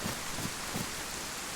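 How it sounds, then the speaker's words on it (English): Steady rain in the DayZ video game on the Deer Isle map, a dense, even hiss with faint low thumps, filling the whole short stretch with no talk. "You working in the rain?"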